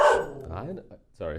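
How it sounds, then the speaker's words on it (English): A dog barks sharply once up close, followed by brief vocal-sounding yelps, with a person speaking a word over the end. "Let's cut to the dog when he's barking."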